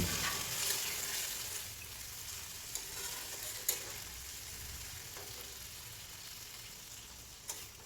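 A small-fish curry sizzles in a pan and is stirred gently, giving a steady close frying hiss with a few soft scrapes and clinks from the utensil.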